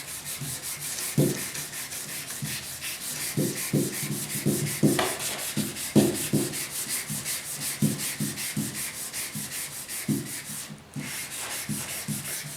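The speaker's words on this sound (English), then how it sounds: "Let your mind wander when you're sanding this stuff up." Steady rubbing scrape of sandpaper worked back and forth over the painted tailgate of a 1972 Ford 4x4 pickup, close up, with a rhythmic pulse of strokes and no talking.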